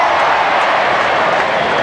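A loud, continuous crowd roar fills the stands at Leichhardt Oval during a 1984 rugby league match between Balmain and Parramatta as the ground announcer reads out scores, dense and unbroken throughout.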